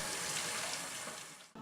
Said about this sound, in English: rinse the mushrooms under cold running water, using your hands to remove the dirt